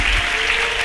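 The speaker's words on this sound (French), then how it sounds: "Acclamez très fort pour le Seigneur." A church congregation claps and cheers loudly for the Lord, a dense, steady wash of applause that fills the whole short moment without a break.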